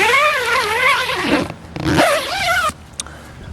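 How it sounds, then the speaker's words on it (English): A tent door zipper being unzipped on a REI Arete ASL 2 tent, loud and close, in two long rasping pulls followed by a brief click. "When you unzip it, the door gets completely out of the way"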